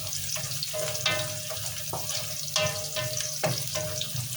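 Onion fries in a pan with a steady close sizzle, broken by clinks and scrapes of stirring at irregular intervals.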